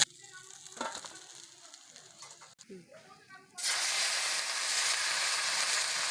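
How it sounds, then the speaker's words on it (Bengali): Small puti fish go into hot oil after a few quiet seconds of faint kitchen clatter and a brief voice, and a loud, steady frying hiss then fills the rest of the clip. "বাকি মাছগুলো ভেজে নেব"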